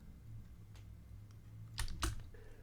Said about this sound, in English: by holding down the Shift and Y keys